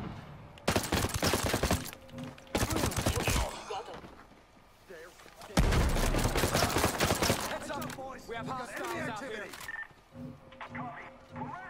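Bursts of automatic gunfire in the tactical shooter Ghost Recon Breakpoint, loud close volleys separated by short pauses, with a voice talking over the later shots.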